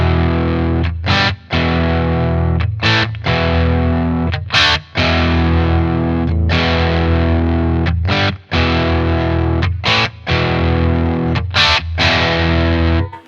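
A heavily distorted electric guitar plays a riff through a Boss Katana amp, loud chopped chords broken by short regular gaps, with no voices.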